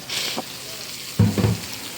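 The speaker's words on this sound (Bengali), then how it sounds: "এই যে মাছগুলো ভাজা হচ্ছে" Small hilsa fish fry in a pan, giving a faint, steady sizzle broken by a couple of louder low thumps or stirring bumps nearby.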